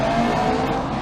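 Race car in the racing game Grid Legends, a steady loud engine drone with tire roar, close and continuous for a short moment with no talking.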